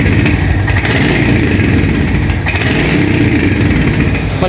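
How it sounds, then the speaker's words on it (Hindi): A Royal Enfield Hunter 350 motorcycle engine revs steadily and loudly up close, a continuous throaty exhaust rumble with slight swells, no talking. "हल्का सा मैं इसको रेव करता हूँ।"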